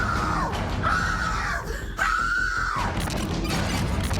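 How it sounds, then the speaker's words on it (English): A woman in a building lobby by an elevator lets out loud, drawn-out screams amid scuffling bumps and clatter. "the woman pushes back and lets out a blood-curdling scream"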